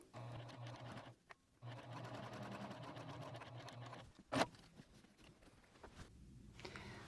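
A sewing machine stitches a zipper pouch with a steady, close mechanical whir and needle patter, pausing briefly twice before running on, then a sharp click and softer handling noises.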